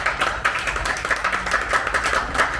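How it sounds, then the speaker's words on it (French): Audience at a live stage show claps for guitarist Samuel, a dense steady patter of many hands at moderate loudness lasting a few seconds with no voices over it. "est-ce qu'on peut faire un tonnerre d'applaudissements pour lui?"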